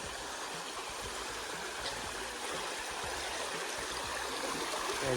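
A clean, clear-water river stream in a Konkan village rushes and gurgles in a steady, unbroken wash of sound with no voices.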